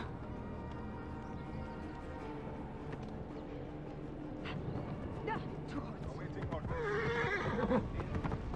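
A horse whinnies in Assassin's Creed Origins, a bright rising neigh near the end over steady game ambience and muffled hoofbeats, with speech around it.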